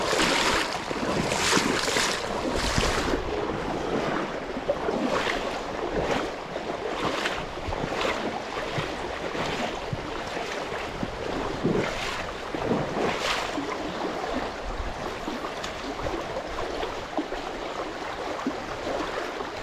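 Fast water tumbling over shallow river rapids, a steady broadband rush with gusts of wind buffeting the microphone, close and continuous with no talking.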